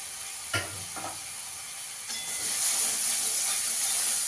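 Hissing sizzle of spices with salt, turmeric and Kashmiri chilli sautéing in a hot pan for egg chicken mughlai, a couple of spoon knocks early, then the hiss swelling louder and steady.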